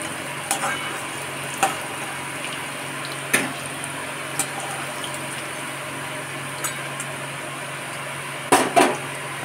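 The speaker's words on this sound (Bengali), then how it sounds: "সেগুলো আমি দিয়ে ভেজে নেব" Cauliflower and potato pieces fry in hot oil for a Bengali curry, giving a steady soft sizzle broken by occasional sharp pops and utensil clinks.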